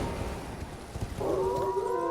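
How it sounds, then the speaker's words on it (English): Sky Wolves in the video game Elden Ring let out a rising, wavering howl that starts partway through over a low rumbling game background. "Sky Wolves!"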